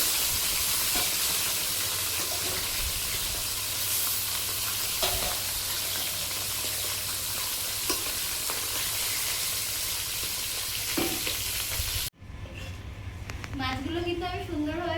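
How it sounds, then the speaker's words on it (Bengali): Bata fish and prawns frying in oil in a pan give a steady close sizzle with occasional stirring clicks, then after a sudden cut the frying continues more quietly with a voice speaking over it. "নুন হলুদ মাখিয়ে আমি সুন্দর করে মাছটা ভেজে নেব"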